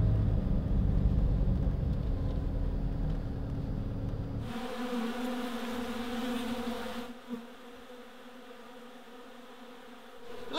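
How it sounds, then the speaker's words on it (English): Bees buzz close by around a pollen feeder outdoors, a dense droning hum at first that drops to a thinner, quieter buzz partway through and continues steadily. "there's only a little few little reconnaissance bees that we brought down earlier"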